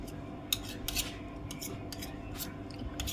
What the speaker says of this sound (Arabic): اقلب جامد كده اهو